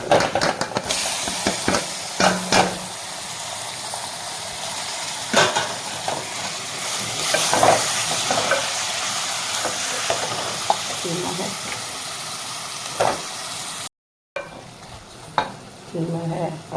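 Washed, squeezed minced meat fries with onions in a pan. The loud, sizzling hiss is close by, with stirring clatters and scrapes breaking through it and a short gap near the end.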